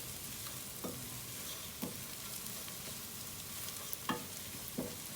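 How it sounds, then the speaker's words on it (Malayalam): Ground spices including turmeric and roasted cumin sizzle quietly in a pan for carrot rice, broken by four or five distinct scraping strokes of a spoon stirring, with no talk. "എല്ലാം കൂടെ ഒന്ന് ഇളക്കാം."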